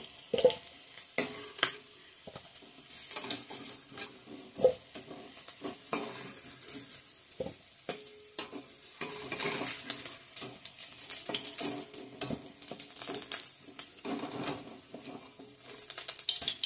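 Potatoes sizzle and crackle frying in a hot pan up close, with frequent scraping and stirring clatter from a utensil.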